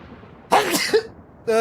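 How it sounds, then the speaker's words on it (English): A single sharp, explosive sneeze in a Final Fantasy XIV cutscene, with a short voiced tail, then another brief vocal burst a moment later. "Sneeze."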